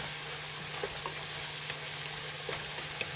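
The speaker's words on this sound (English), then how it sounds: "Give that a quick stir." Spices are stirred into a pot of chili beneath a steady, even frying hiss, with faint occasional scrapes of the spoon against the pot.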